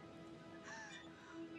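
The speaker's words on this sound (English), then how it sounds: "Oh, no, there's a raven." A raven cawing in the horror video game Until Dawn, harsh calls rising over a steady ambient game soundscape, with a low drone underneath.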